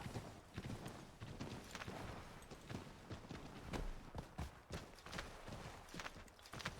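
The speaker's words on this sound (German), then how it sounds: "Oh, Pferd." Horse hooves clip-clop steadily on Boston streets in Assassin's Creed 3, a fast, even trotting rhythm close by with rumbling carriage noise underneath.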